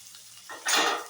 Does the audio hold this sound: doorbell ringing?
no